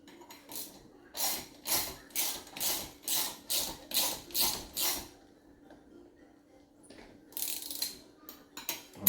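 A hand ratchet tightens the fork bolts on a Honda Ruckus scooter, giving a series of about ten rhythmic clicking strokes, a pause, then a few more quick ratcheting bursts up close.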